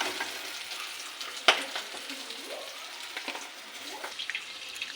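Boal fish pieces fry crisp in a pan, giving a faint, steady sizzle with one sharp clatter early and a few light scrapes, quiet and without speech.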